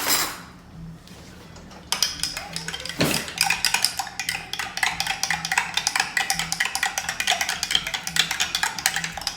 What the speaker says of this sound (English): Give it such a nice stir to blend the ingredients